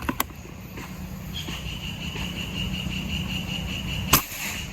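A Bocap Black Lava extra-big CNC slingshot fires a single shot, a sharp snapping crack near the end after a faint tick at the start, over a steady outdoor hum with insect-like buzzing.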